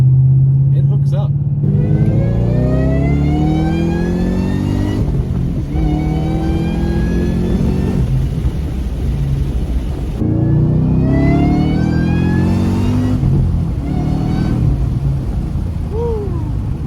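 Supercharged Ford Mustang GT500 with a VMP-charged engine, making about 708 wheel horsepower, roaring loudly through repeated rising acceleration pulls, with a person talking over the engine throughout.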